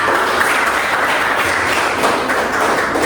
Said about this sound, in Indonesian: Beri aplaus sekali lagi untuk kita semua.